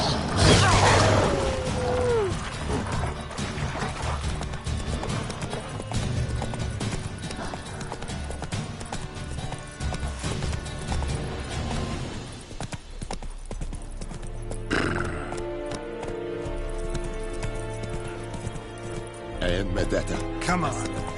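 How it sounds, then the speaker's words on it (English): Hoofbeats of Roach, a horse in The Witcher game, gallop in a steady clip-clop rhythm through most of the stretch, with a whinny near the start and someone talking over the action. "Run, Roach. Show me what you got."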